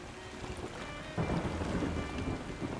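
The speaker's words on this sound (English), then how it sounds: "A little bit of a storm." A thunderstorm at sea in the video game Yonder: The Cloud Catcher Chronicles, with a broad, steady rumble and rush of wind and rain that swells sharply partway through and stays loud to the end.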